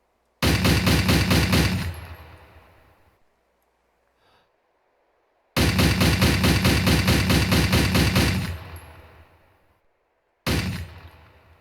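An American WWII weapon in the IFA3 mod for ArmA 3 fires loud, close bursts of rapid automatic gunfire, each run of shots ringing out into a fading echo, with three separate strings of fire and no voices.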